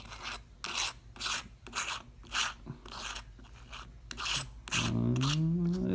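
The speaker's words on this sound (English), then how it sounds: "screw into the threaded part of the case" An aluminum camera case for a Xiaomi Yi camera is screwed onto its threaded part, making a series of rhythmic gritty rasping turns, close up, followed by a brief rising squeak at the end.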